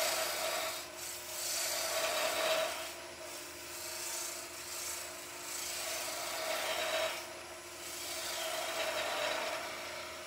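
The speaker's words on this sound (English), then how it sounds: "I'm going to start using a beading and parting tool." A beading and parting tool cuts a bead into wood spinning on a lathe during a Christmas turning session: a continuous close scraping, rasping hiss that swells and eases in long strokes, with no talk.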